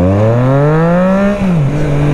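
A Triumph Trident 660 three-cylinder motorcycle accelerates hard, its engine note rising loud and close through a gear before a quick shift dip and a fresh pull.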